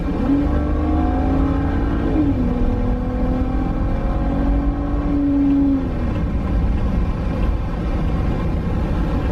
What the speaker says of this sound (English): we're getting ready to jump on the motorway here. So we'll give it a full throttle